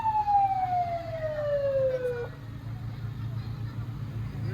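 An ambulance siren at an Independence Day parade in Blue Island sweeps downward in one long wail, then cuts off, loud over street noise while someone talks nearby.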